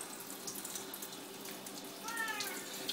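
Water running steadily from a tap while a dog is rinsed during a bath, a soft continuous splashing hiss that swells slightly near the end, faint and close.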